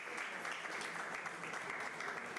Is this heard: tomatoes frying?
no